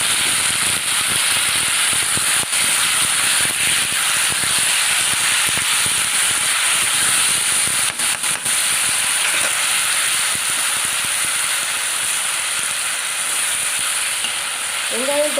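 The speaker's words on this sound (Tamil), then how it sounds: "வெங்காயம், தக்காளி, உப்பு எல்லாம் சேர்ந்து நல்லா நமக்கு மசாலாவோட சேர்ந்து நல்லா வேகட்டும்" A masala of onion, tomato and salt frying in a pan, a loud, steady sizzle and hiss with occasional scraping stirs, close and continuous for about fifteen seconds.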